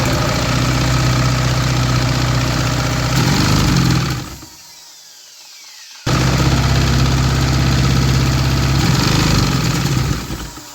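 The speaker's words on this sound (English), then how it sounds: "An inline 2-stroke engine." A 3D printed inline two-cylinder two-stroke engine running with a loud, rough buzzing drone, cutting out briefly into near silence midway before roaring back up and running on, close by with no voices.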